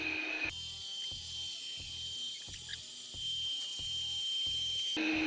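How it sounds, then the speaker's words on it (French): An Imilab V1 robot vacuum runs at maximum power with a steady, loud whine and high hiss, over a regular low thumping pulse roughly twice per second. "l'aspirateur se met en mode puissance maximale"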